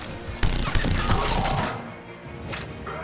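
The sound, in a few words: Hurricane gun firing in the video game Mass Effect 3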